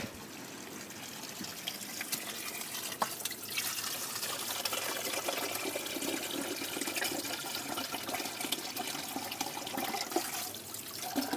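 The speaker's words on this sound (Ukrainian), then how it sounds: "Зараз якраз наберемо на джерелі водички." Water from a mountain spring in the Carpathians near Hoverla runs steadily into a container, a continuous close trickling and splashing that lasts throughout with no voices.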